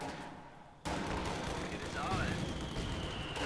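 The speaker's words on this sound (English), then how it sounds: "here I'm trying to throw grenades at him" Grenade blasts in a Company of Heroes 2 battle, a sudden loud burst that rolls into a sustained rumble of explosions and battlefield noise with a faint whistle partway through.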